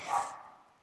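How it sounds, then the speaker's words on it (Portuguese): A pet dog gives one short, quick bark that trails away fast, heard at moderate loudness indoors. "Desculpa pelo meu cachorro, mas é porque é o tadinho."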